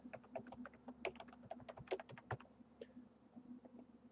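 Quick, uneven keystrokes clatter on a computer keyboard as login credentials are entered, faint and close, with a few firmer taps among the bursts and a pause before the end.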